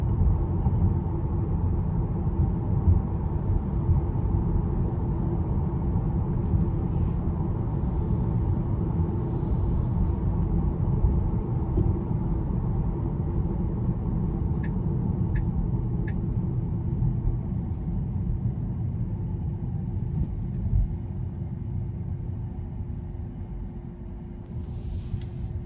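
Steady low road noise from tires rolling on pavement fills the cabin of a 2021 Tesla Model 3 Performance, a constant rumbling hum with faint fan air and no engine sound, a few tiny ticks near the middle.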